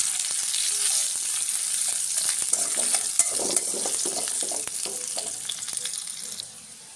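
Fish fries in a pan with a constant soft sizzle, broken by scattered scrapes and light clicks from stirring or turning. Steady hiss throughout, fairly close, with no voices.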